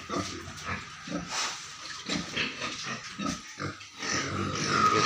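Pigs grunt and squeal at feeding time on a farm, a close jumble of rough grunts and sharp cries over a hissing background.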